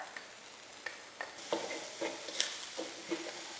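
Minced pork stir-frying with shrimp heads in a pan for Thai fried rice: a soft sizzle broken by irregular clicks and scrapes of a spatula against the pan, close and fairly quiet, no talking.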